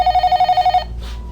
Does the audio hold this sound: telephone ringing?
yes